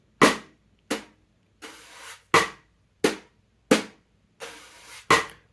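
Sparse snare strokes alternate with brushed swishes in a slow, even bossa nova brush groove, sharp rim clicks punctuating the pattern, close and alone with no talk.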